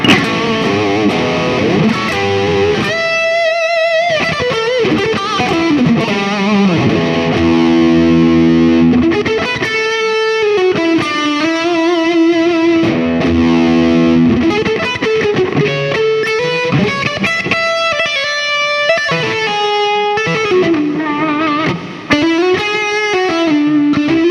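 Heavily distorted electric guitar through the Mr. Scary amp head in Overloud TH2 amp simulation, alternating chugging palm-muted riffs with sustained lead notes and bends, loud and continuous.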